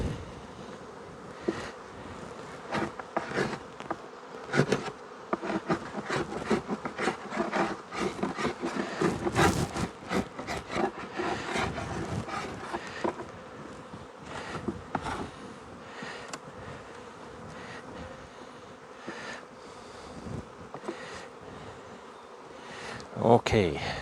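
Honey bees buzz around an opened hive during a spring apiary check, a continuous droning hum with wooden frame knocks and rubbing over it, and a person talking intermittently.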